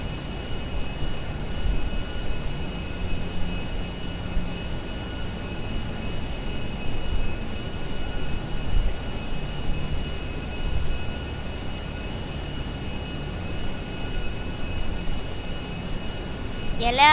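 A steady, loud airplane engine drone roars without letup in GTA 5, a broad continuous jet-like rush with faint tonal whine on top, no voices over it.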